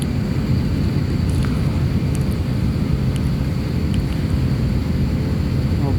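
A Qatar Airways airliner rolls slowly toward the runway at Bandaranaike airport in Sri Lanka, giving a continuous low engine drone with a faint high whine and a few light clicks.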